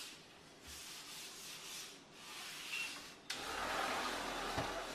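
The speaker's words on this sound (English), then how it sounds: "After you buff with the white terry cloth towel" A white terry cloth towel buffing a freshly sealed granite countertop, soft rubbing strokes rising and falling in a slow rhythm, quiet and close, with a brief knock partway through. Nobody speaks.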